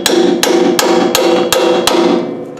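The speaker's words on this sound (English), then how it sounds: "Then you hammer the socket on there." A socket is hammered onto a rusted, stripped nut: six sharp metallic hammer blows in a steady rhythm, each ringing briefly, loud and close.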